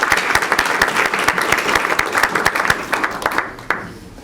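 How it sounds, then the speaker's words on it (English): Audience applause after a university society lecture, a dense burst of many hands clapping that thins out and fades toward the end, with a few scattered final claps. "let's give him a round of applause"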